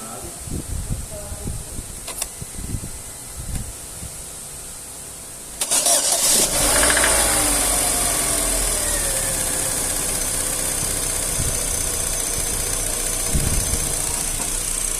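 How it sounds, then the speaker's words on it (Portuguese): A 2009 Chevrolet Astra engine cranks and starts after a few seconds of quiet bumps and handling noise, then settles into a steady close idle, with a little speech in the background. "escutou o barulhinho da partida?"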